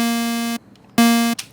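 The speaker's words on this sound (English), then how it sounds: "I have a MIDI playing some notes that are supposed to be playing our kick drum" Two buzzy synthesized 808 kick notes from a Massive square-sawtooth oscillator, each a bright sustained harmonic-rich tone about half a second long, separated by a short gap, loud and alone.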